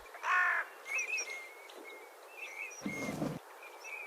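Crows cawing in the Maremma countryside of Tuscany on a summer evening, a few harsh calls at moderate distance with faint birdsong and a low thump in the background.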